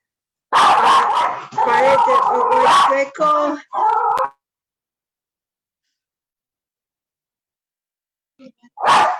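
Excited dogs bark and yelp in several loud, close bursts, then fall silent before one more short bark at the end.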